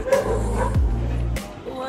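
Dogs at a rural home let out a couple of loud yipping barks close by, mixed with whimpering, over a backdrop of voices.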